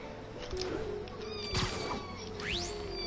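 A cat named Oreo meows in a video game, several short meows and a rising caterwaul over a busy background of game ambience and low rumble, moderately close.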